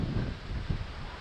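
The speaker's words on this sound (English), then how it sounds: "It's very windy out here, man." Strong wind gusting across an exposed hilltop on Mt Victoria in Wellington, a steady loud roar of buffeting air against the microphone with rumbling surges and no voices.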